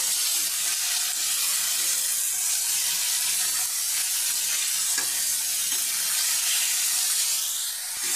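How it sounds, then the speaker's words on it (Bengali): Small chicken pieces lightly frying in oil for a chicken and taro curry, giving a steady, close hissing sizzle with occasional stirring and no talk. "চিকেনটা আমি হালকা করে ভেজে নিয়েছি"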